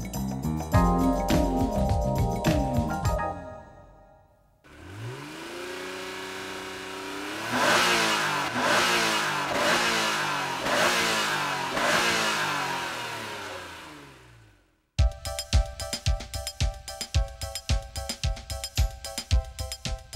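A 380-horsepower Ferrari sports car engine revs hard, climbing and dropping in pitch through several gear shifts, with a brief pause before another burst of sharp revving.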